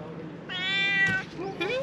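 A small cat kept outside in a little tent near an RV meows close by, one long drawn-out call followed by a shorter one, with people talking softly around it.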